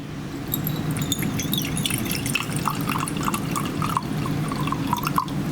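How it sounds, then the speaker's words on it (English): Household vinegar is poured into a container in a chemistry experiment, producing a steady trickling and splashing liquid sound for several seconds at close range. "We are going to add a little bit of vinegar. This is just household vinegar."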